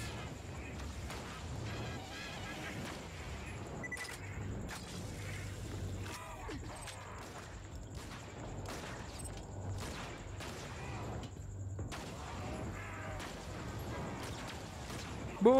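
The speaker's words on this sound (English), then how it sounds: "Explosions!" Explosions and bursts of gunfire from the video game Borderlands 2, a dense busy mix of repeated blasts and shots running throughout, with game voices and effects layered underneath.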